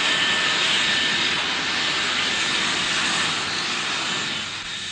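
Engines of a Douglas DC-6 airliner produce a steady, loud, broadband roar that holds nearly constant for five seconds, easing slightly at the end, with no voices.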